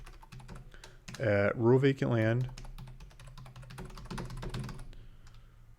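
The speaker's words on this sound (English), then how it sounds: "I'm typing it in here so you can cut and paste it" Steady clicks of typing on a computer keyboard run through the whole stretch, close and light, while someone speaks briefly over the middle of it.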